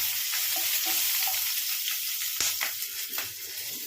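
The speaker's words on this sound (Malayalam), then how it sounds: "മുഴുവനോട് തന്നെ അത് ഈ എണ്ണയിലോട്ട് ഇടുവാണ് ഇതൊന്ന് ചെറുതായിട്ട് വഴണ്ട് വരട്ടെ" Whole green chillies frying in hot oil give a steady, close sizzle with bright crackle throughout, joined by a few sharp pops and spatters toward the end.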